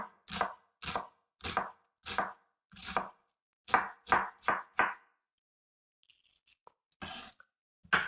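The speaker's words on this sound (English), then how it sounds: "So now I'm gonna cut all the onions" A knife chops an onion into small pieces on a board: about ten sharp, close, evenly spaced thuds, a pause, then a couple more cuts.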